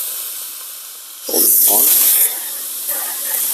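A Milesto EM19M3 espresso machine's steam lever is flipped, releasing a loud burst of hissing steam that runs for about a second, then eases to a softer hiss while a person talks.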